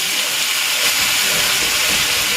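Pork belly pieces sizzle in a hot pan with a loud, steady, broad hiss that holds constant throughout, with no talking over it.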